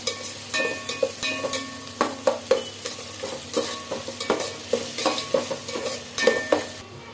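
Onions sautéing in a pan for tomato rice, stirred continuously: a steady close sizzle with repeated scraping strokes of the spoon against the pan, no voices.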